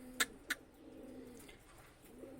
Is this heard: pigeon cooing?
yes